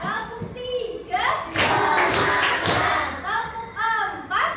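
Children in a Year 4 Indonesian classroom clap in call-and-response patterns, bursts of hand claps and thuds following a teacher's spoken cues, with voices heard between the claps.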